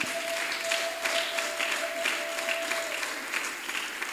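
Audience at a teaching-guide launch event in the DRC applauding, a steady wash of many hands clapping at moderate level, with a faint sustained tone running through part of it.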